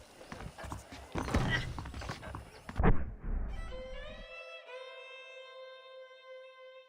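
Saddled horses in the Red Dead Redemption video game clop along on hooves and snort, followed by a clear, drawn-out neigh that rings out alone near the end.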